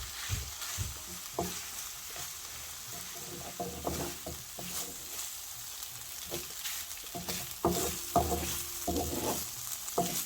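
Chicken samosa filling sizzles in a pan while a spoon stirs it, with scraping strokes and clacks arriving in uneven bursts over a soft, steady frying hiss.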